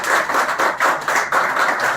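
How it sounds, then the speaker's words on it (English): An audience at a scholarship award ceremony applauds a first-place topper, a steady burst of many hands clapping in regular waves, fairly close and with no talk over it. "Please clap loudly because this is the first topper."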